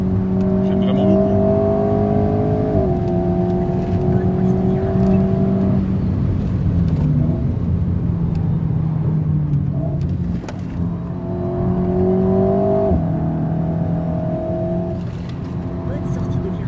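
An Alpine A110S engine on a lap of the Nurburgring, loud and close, with steady revving tones rising through the gears, dropping at each shift, then climbing again, while someone talks over it.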